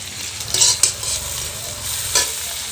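Onions fry in oil in a pan as two bay leaves are added, with a continuous close sizzle and a few louder stirring scrapes and crackles. No one speaks.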